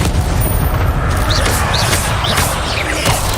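An Incendio fire spell is cast in a Harry Potter video game. A loud, sustained fiery roar carries sharp booming bursts and short whistling flickers throughout.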